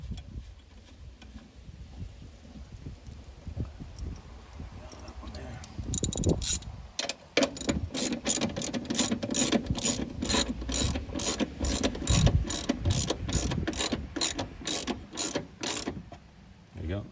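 A ratchet tightens a 12mm bolt on the battery hold-down of a 1999-2005 Mazda MX-5 Miata: a quiet start with faint handling, then a long run of rapid, regular clicks up close.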